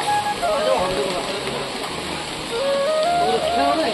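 Rain pours steadily near a Hanuman and Shiva temple in Assam, a continuous broadband hiss with faint tonal, voice-like sounds drifting through the background.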